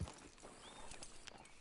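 Horse hooves clip-clopping at a walk in Red Dead Redemption 2, soft and steady beneath a low ambient bed of game sound.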